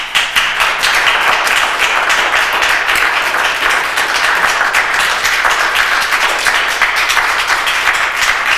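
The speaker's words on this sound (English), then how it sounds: "So all those people clapping won't have to speak." Sustained, dense clapping from a town meeting audience fills the room, loud and steady for several seconds with no pauses and no speech over it.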